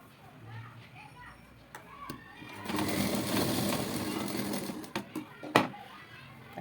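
A sewing machine stitching joined fabric strips for a plain blouse: a steady mechanical whir of a few seconds in the middle, with someone talking before and after and a few clicks near the end.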